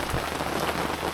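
Rain drums steadily on an awning outdoors, a dense continuous patter close by with no pauses and no talking.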